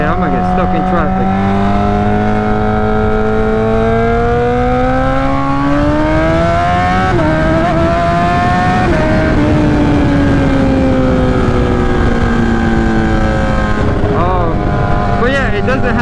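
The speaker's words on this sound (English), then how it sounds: "it doesn't have a beautiful note to the exhaust. It's very just loud." A 2008 Suzuki GSX-R 1000 sport motorcycle with a straight pipe exhaust, ridden on the road, its loud raw engine note rising and falling through gear changes and revs, sustained and close throughout.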